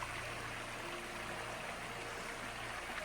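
A flowing stream in the Dolly Sods Wilderness, a steady broadband rush of water running close by without pause, with no voices over it.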